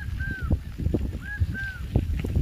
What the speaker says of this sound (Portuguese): que ave é essa que tá cantando, ó, pássaro